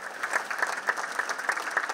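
A theatre audience applauds, a crowd of many hands clapping in a quick, even patter at moderate loudness, with no voices over it.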